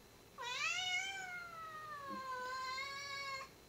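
A cat gives two drawn-out meows close by, the first rising and then falling, the second long and steady after a brief pause, heard alone against a quiet room.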